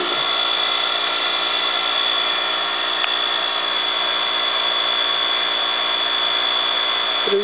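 A Bedini-style generator wheel spins at about 3,500 RPM, giving off a steady, even whir with a thin, constant high-pitched whine that holds unchanged throughout.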